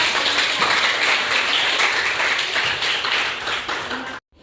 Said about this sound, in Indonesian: Ya, beri aplaus kepada.